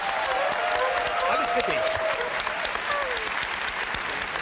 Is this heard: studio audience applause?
yes